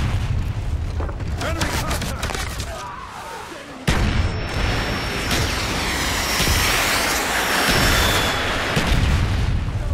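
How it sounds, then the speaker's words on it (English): Mortar strikes land in a Call of Duty Black Ops match, with a sudden loud boom at about four seconds followed by rumbling explosions and gunfire throughout the battle noise. "Friendly mortars inbound."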